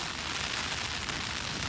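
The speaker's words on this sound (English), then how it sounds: "It's cold and rainy." Cold rain falling steadily on a backyard, a dense even hiss of drops with no pauses.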